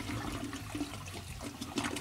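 A game character urinating into a toilet in Trader Life Simulator 2: a steady watery trickle and splash, moderately quiet and continuous for about two seconds.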